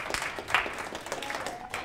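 An audience at a cancer survivorship panel event applauding as speaker Tara Crawley comes up, brisk steady clapping from a moderate-sized crowd without any talking.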